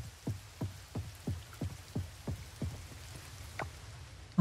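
Steady rain falls in the farming game Coral Island, a soft continuous hiss with a regular series of muffled thuds running through it, with no talking.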